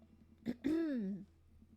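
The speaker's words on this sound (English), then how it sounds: "I clear my throat." A single short throat clearing, a quick catch followed by a voiced, drawn-out 'ahem', close and clear against a quiet room.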